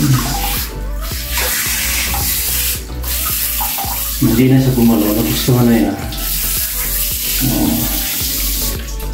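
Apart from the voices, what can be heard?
water poured over a pet cat during its bath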